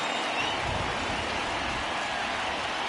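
Steady, even hiss of rain falling over Guaranteed Rate Field baseball stadium, soft and distant, with no voices standing out.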